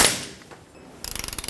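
A ratchet snugs up a bolt on a 2011-2016 Ford F-350 drag link, starting with a brief knock and then a rapid, even run of close ratcheting clicks.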